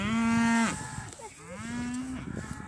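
Cattle on a farm give two loud, drawn-out moos, the first close and strong, the second rising after a short pause, with faint bird calls and rustling between.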